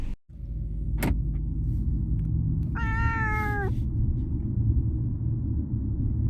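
A single clear cat meow, rising and drawn out for about a second, sounds over a steady low vehicle rumble, with a brief sharp knock just before it.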